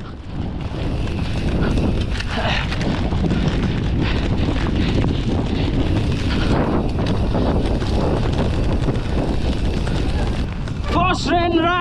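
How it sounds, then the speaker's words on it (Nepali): Strong wind roars in a continuous loud rush during a motorbike ride in the first rain of the year, with the sound of rain blended into the buffeting and a short vocal sound near the end. "पानी पर्यो"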